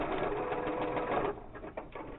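A sewing machine stitches a coffee filter face mask with a fast, steady whirring run that stops about two-thirds of the way through, followed by a few light clicks and handling noises.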